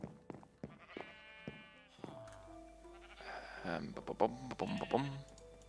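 Minecraft sheep bleat several times, wavering and nasal, close by, mixed with a voice talking and some clicking sounds.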